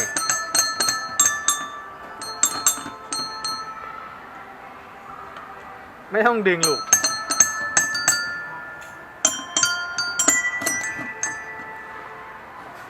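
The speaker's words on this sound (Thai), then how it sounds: "ตัวกระดิ่งนะครับน้องๆมันจะเป็นตัวโน้ตเนาะ" Press-top hand bells tuned to musical notes ring at a children's play centre, struck in quick irregular bursts of bright clear dings, with a brief voice cutting in midway.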